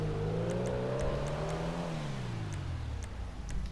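The Comet Retro sports car's engine revs in GTA 5, a loud, close rising and falling whine as the pitch climbs and then drops, with faint clicks ticking over it and no talk.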